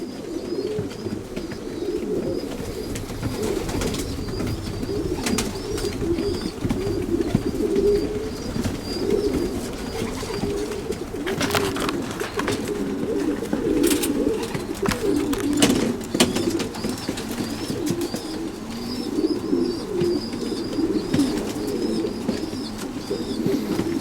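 Racing pigeons coo softly and repeatedly in low, burbling calls, with occasional higher chirps and brief flutters, no voices.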